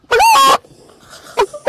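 Loud, close clucking squawk from a chicken in a video game, a short burst followed after a brief gap by two quicker clipped squawks.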